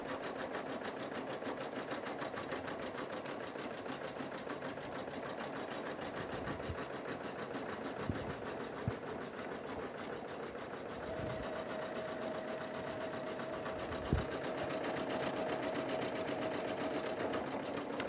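Husqvarna Viking Jade embroidery machine stitching around an applique edge, a steady, fast mechanical whir with rhythmic needle chatter and a few sharp clicks, running continuously with no talk.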